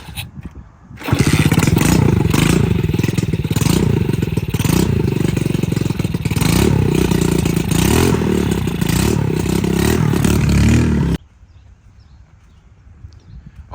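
An engine with its choke pulled runs loud and steady at close range for about ten seconds, rattling throughout, then shuts off abruptly.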